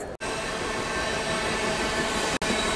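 A Mumbai local train rumbling past at night as a dense, steady roar of wheels and carriages, with two sharp breaks, close and loud with no talking.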